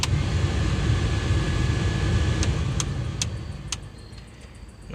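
A car heater blower motor, newly replaced along with its resistor, runs on high speed as a steady broadband whoosh, loud and constant before easing slightly near the end, with a few faint clicks partway through.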